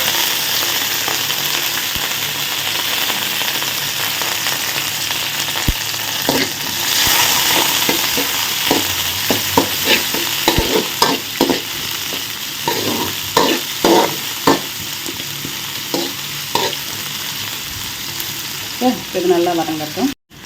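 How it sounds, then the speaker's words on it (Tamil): Onions, green chilli, curry leaves and fennel seeds sauté in a pan for a Tamil chayote curry, with a steady close sizzle and repeated scraping, clattering strokes of a spoon stirring through it. "வெங்காயம் நல்லா வதங்கி வந்துருச்சு."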